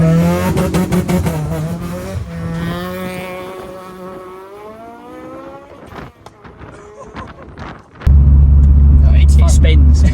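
A Honda Civic Type R engine revving and accelerating from inside the cabin, its note rising through gears with shifts, then a brief lull before a loud, deep droning roar, with people talking over it.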